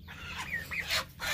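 Farm hens cluck nearby in a few quick bursts, with a low hum of barnyard background underneath and no talking.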